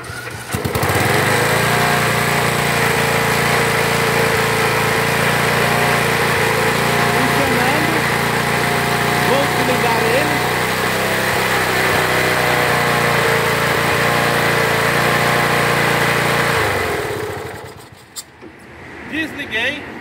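A tractor engine runs with a loud, steady, close rumble for most of the stretch, then cuts off abruptly and leaves near silence.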